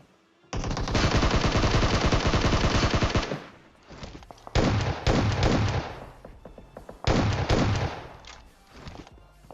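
Rapid automatic gunfire from a battle royale video game, with players jumping and shooting from mid-air, comes in long loud bursts of dense rattling shots separated by short gaps.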